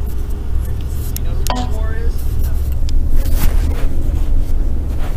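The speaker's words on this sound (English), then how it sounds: "Let's go with this traffic." Road traffic and engine rumble heard from inside a moving car in city driving, with wind buffeting over the microphone and a few brief passing sounds, steady and moderately loud throughout.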